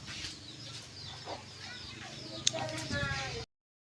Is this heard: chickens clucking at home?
yes